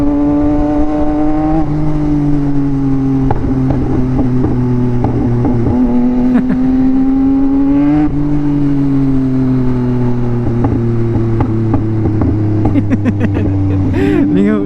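Yamaha MT-09 motorcycle revved high in second gear, a loud, close engine roar that rises and falls in pitch over several pulls, with sharp crackling backfire pops toward the end.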